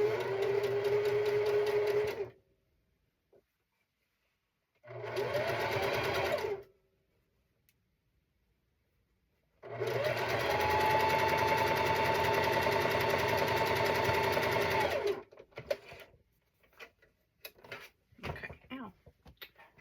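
A sewing machine stitches a cat quilt in three separate runs, two short and one longer, with silent pauses between; soft handling clicks and rustles follow the last run.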